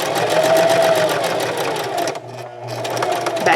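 Sewing machine stitching a scrub cap seam, a fast steady mechanical whir of the needle running close up, briefly pausing midway before resuming.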